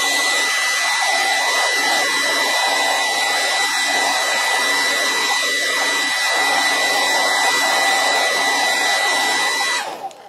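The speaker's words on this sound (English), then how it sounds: "Then with your hair dryer or whatever kind of heat gun that you have" A hair dryer blows steadily at a loud, constant roar with a high whine, running without pause until it cuts off at the very end.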